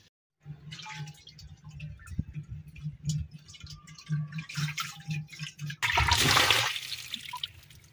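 Water is swirled inside a clay pot to rinse it and then poured out, with steady sloshing over a low hum that ends in a louder, close splashing gush.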